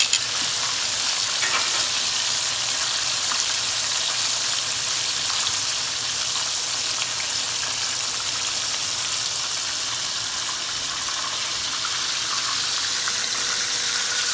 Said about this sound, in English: when all my chicken is finished frying